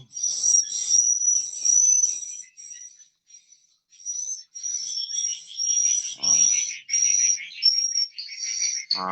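Swiftlet lure call played through a speaker in a swiftlet nesting house, a steady stream of high, repeated chirping tweets running almost continuously with brief gaps, fairly loud and close, with no talking.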